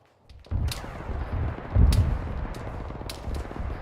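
Gunfire crackles during a field training exercise, with several sharp reports and a heavier burst near the middle over rumbling outdoor noise, loud and fairly close.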